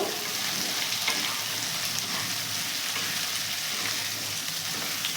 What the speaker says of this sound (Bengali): যে কুমড়ো আর আলুগুলো কেটে রেখেছি সেগুলো দিয়ে দিলাম দিয়ে এটাকে ভালো করে আমি ভাজবো